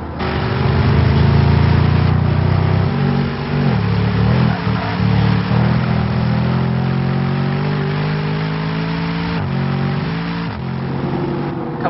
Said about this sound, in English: I'm now driving the SLS GT